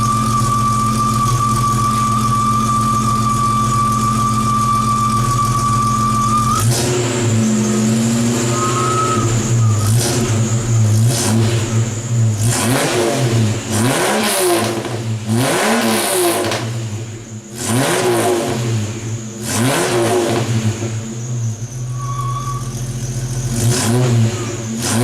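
A 1995 Jeep Grand Cherokee 4.0L idles through a Flowmaster FlowFX muffler, heard close at the tailpipe, then the engine revs repeatedly in rising and falling bursts before settling back to a steady rumble.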